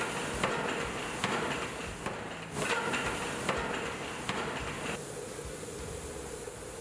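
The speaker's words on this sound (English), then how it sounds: "We use force from the drop hammer to shape it and make it durable." A drop hammer forges metal in an old tool forge, striking in a steady series of heavy, sharp blows about a second apart over a constant industrial hiss and rumble.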